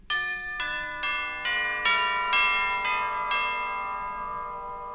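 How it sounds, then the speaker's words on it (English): Eight ringing chime strikes in a steady descending-and-rising sequence, each note overlapping the last as the tones sustain and blend. "And the chimes."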